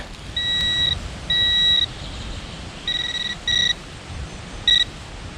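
A metal detector in a forest emits a series of short, high electronic tones, several separate beeps of varying length with brief gaps, over a quiet outdoor background.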